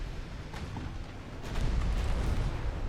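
Warship guns firing in the naval video game Ultimate Admirals: Dreadnoughts, distant heavy booms and rumbling bursts under a continuous low roar that swells halfway through.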